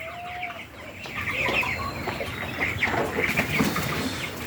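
Chickens cluck densely and continuously on a poultry farm at feeding time, a close, busy flock chatter with no talking.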